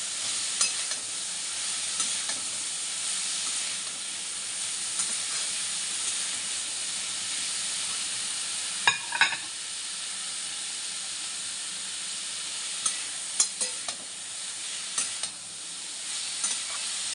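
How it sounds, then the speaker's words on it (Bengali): Potatoes and radish stems fry together in hot oil for a small-fish curry, a loud, continuous sizzling hiss with occasional sharper crackles, and no voices. "আলুটা আলাদা করে ভাজিনি এর সঙ্গেই ভেজে নেব"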